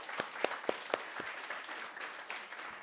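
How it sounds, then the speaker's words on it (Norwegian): A small audience at Gjesdal's Skeivå event applauds its politicians with a brief, sparse round of quiet claps, a few sharp individual claps standing out before it fades. "En stor applaus til politikerne våre"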